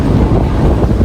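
Strong wind roars and buffets the microphone in a loud, continuous low rumble.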